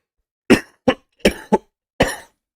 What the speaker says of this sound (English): Excuse me for coughing into the mic.